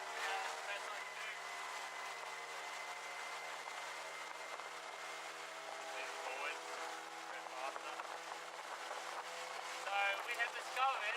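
An outboard-powered motorboat runs steadily on Tingalpa Creek, its engine a constant moderately loud hum and drone throughout, with people talking over it and some added bumping near the end.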